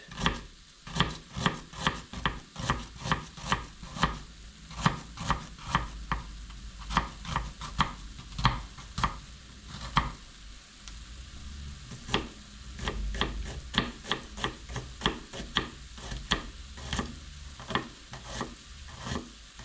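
An onion being chopped finely with a knife on a cutting board, a long run of quick, sharp taps in uneven bursts with short pauses, close and clear with no talking.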